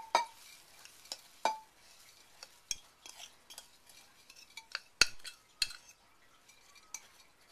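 A spoon mixing an apple, cinnamon and sugar filling with an oatmeal topping in a crock pot: sparse scraping and clinking strikes against the pot, several sharp knocks spaced irregularly among quiet soft stirring, close and without talk.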